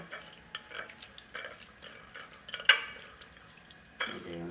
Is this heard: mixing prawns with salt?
yes